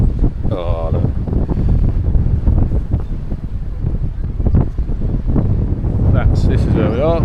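Strong wind roars across the microphone on a beach in St Ives, loud continuous low buffeting with gusts, while people talk over it and a faint voice rises near the end.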